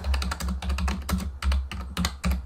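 Fast typing on a computer keyboard, a close, steady run of crisp key clicks and clacks in quick bursts with brief pauses, alone without talk.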